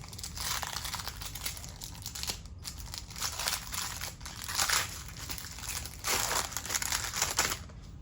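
Paper wrapping crinkles and rustles continuously around a stack of Forest Shuffle Dartmoor game cards being unboxed, close and fairly quiet, with uneven bursts of crumpling and no talking.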